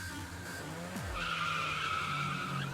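A car peels out in the video game Echo with a sharp, sustained tire squeal over a low revving engine, rising and holding steady for a couple of seconds, loud and close, with no talk.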